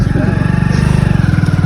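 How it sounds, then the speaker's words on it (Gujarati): A motorbike rides past close by, its engine a steady loud pulsing drone with rapid regular firing beats throughout, under background voices. "કેમ આવી બાઇક ચલાવી યાર"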